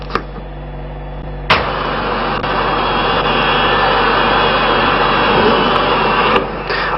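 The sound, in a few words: El Al Boeing jet taking off at Orly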